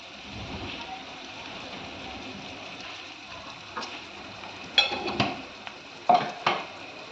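Vegetarian fried rice seasoned with salt and turmeric is stirred in a hot pan, a constant sizzle with several louder scraping strokes of the spatula arriving in the second half.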